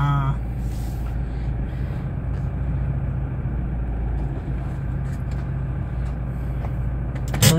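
A Toyota Fortuner idles and pulls away, a steady low engine drone with rumbling road noise holding level, then a brief louder swell at the end; no talk.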